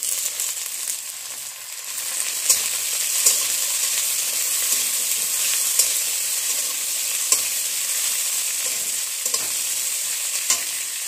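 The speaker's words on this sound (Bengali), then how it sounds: "মাছ, কাঁচা লঙ্কা, রসুন দিয়ে পেঁয়াজ দিয়ে ভালো করে একটু ভেজে নিতে হবে।" Fish, green chili, garlic and onion fry in oil in a pan, giving a steady, close bright sizzle with occasional stirring clinks and scrapes throughout.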